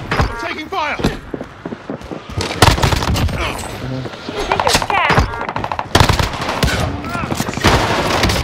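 Rapid, loud bursts of automatic gunfire in a first-person shooter video game, with repeated volleys cracking one after another and voices talking amid the shooting.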